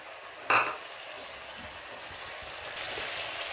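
Tomato and curry leaves sauté in a pan for drumstick masala, a sharp clatter at the start giving way to a steady, soft sizzle.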